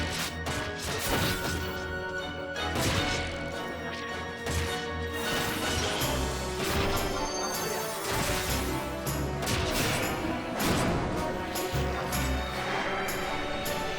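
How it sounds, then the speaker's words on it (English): Crashing, shattering impacts of breaking glass from the Final Fantasy XI video game, a dense run of loud bursts over a continuous layered game soundtrack with no speech. "Distant sound of glass accompanies the dissipation of fog, dampening extra-dimensional forces"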